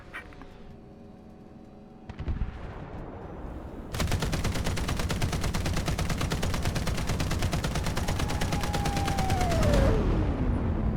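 A tank's .50-caliber machine gun in the video game War Thunder fires a long, loud sustained burst of rapid evenly spaced shots after a quieter engine hum and an earlier shot, with no talk over it.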